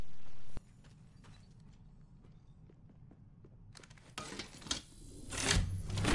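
Footsteps of approaching players in a video game, quiet rhythmic steps at first, then louder and denser movement building toward the end with no talk.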